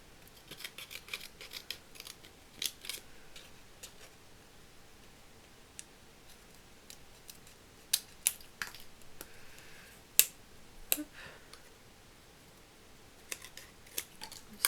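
Scissors snip through paper while making a vintage card, a series of quiet, irregular clicks and cuts, some in quick runs and others spaced apart, close by with no talking.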